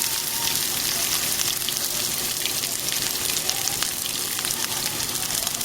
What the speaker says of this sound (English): let's go ahead and put our onion into the hot manteca